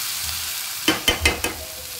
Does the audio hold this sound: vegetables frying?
yes